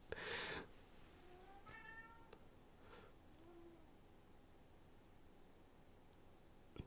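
A cat makes odd, drawn-out meows and warbling cries, a few separate calls spaced over several seconds, faint and distant from the microphone in a quiet room.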